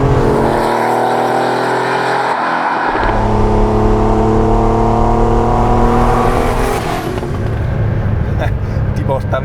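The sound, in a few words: Porsche 911 Turbo 3.3 (930) engine accelerating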